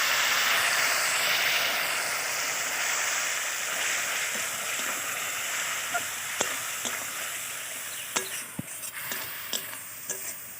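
Spiced green jackfruit sizzles and hisses steadily in a hot pan after a splash of water is added, with occasional sharp stirring clicks and scrapes near the end, no talking.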